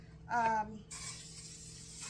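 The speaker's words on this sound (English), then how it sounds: "I'm going to go ahead and spray my roasting pan" Cooking spray hisses onto a roasting pan in one steady burst lasting about a second, close and fairly loud, just after a brief voice.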